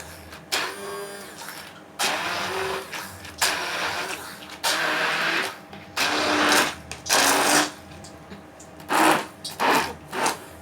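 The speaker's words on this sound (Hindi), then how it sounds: "चलिए अभी हम इसे ग्राइंड करते हैं।" An electric kitchen grinder whirs in short bursts while grinding moong dal with coriander, its motor starting and stopping repeatedly in loud, close pulses.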